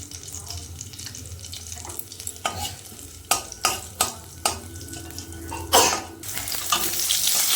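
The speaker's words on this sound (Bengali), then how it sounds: "তেলের উপর দিয়ে দেবো জিরে।" Cumin seeds hit hot oil in a pan while cooking a Bengali fish curry with cauliflower and potato, giving a close crackling sizzle broken by a series of sharp stirring scrapes and clinks that swells toward the end.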